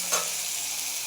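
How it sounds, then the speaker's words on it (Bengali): Paneer fries in hot oil for matar paneer, a soft, steady sizzle with a brief louder spatter at the start, fairly quiet and close. "ভালো করে ভেজে নেব"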